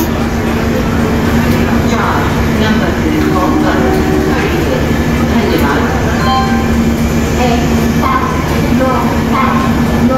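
Dibrugarh Kamrup Express at Guwahati station: a loud, steady rumble of train carriages and station noise fills the whole stretch, with a continuous low hum and faint clatter throughout.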